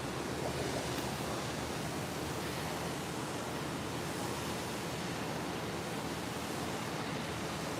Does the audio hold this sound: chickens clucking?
no